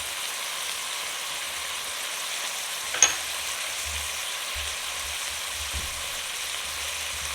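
Tomato and garlic stirred in a hot frying pan give a steady, moderate sizzle, with one sharp scrape-like click partway through and a faint low rumble underneath.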